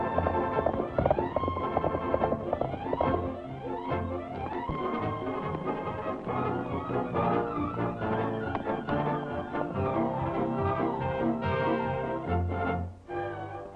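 Steady clip-clop of hooves at a trotting pace, mixed with rumbling and a dense layer of background music throughout.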